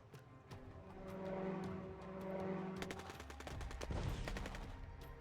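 Rapid gunfire crackling in bursts during a fight at an insurgent camp in the strategy game Rebel Inc, with machine-gun rattles layered over a steady rumble.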